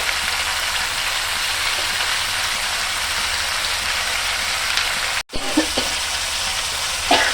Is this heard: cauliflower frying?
yes